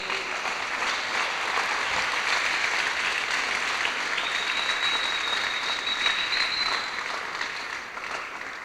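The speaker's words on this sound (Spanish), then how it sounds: "Y dale un aplauso al Rey." A church congregation claps steadily for about nine seconds during a Sunday service, a dense, even wash of applause that holds loud throughout and thins slightly at the end.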